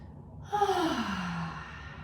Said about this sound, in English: Take a big full deep breath here.